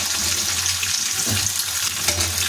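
Chopped onions frying in oil with bay leaf and dried red chillies for a snakehead fish kalia, a continuous close sizzle with occasional scraping stirs.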